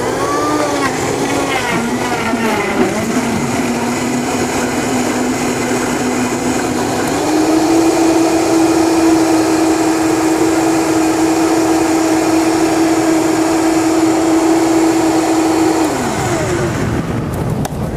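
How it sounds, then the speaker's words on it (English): A high-powered blender whirs through a watermelon smoothie, loud and close, its motor spinning up, holding a steady tone, then stepping to a higher pitch before winding down. "All right, then we're just going to blend this up."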